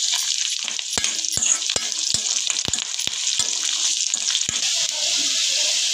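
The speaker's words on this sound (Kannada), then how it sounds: "ಈಗ ಸ್ವಲ್ಪ ಕೆಂಪಾಗೋವರೆಗೂ ಹುರ್ಕೋಬೇಕು" Green chillies and curry leaves frying in hot oil for sabudana khichdi make a steady close sizzle, broken by a run of about ten sharp, evenly spaced pops and crackles.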